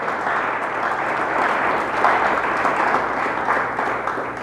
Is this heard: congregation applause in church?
yes